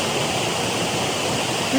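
Heavy waterfall at Ricketts Glen carrying a lot of water, a loud, steady rushing roar that fills the whole clip without pause.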